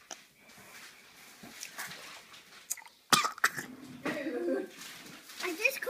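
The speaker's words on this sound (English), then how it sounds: "coughed" A child coughs once, sharply and close up, while eating jelly beans during a home taste challenge. Quiet murmurs come before the cough, and children's chatter and movement follow it.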